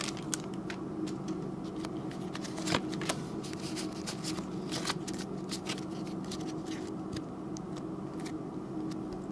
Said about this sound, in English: Let's go with the cards pack.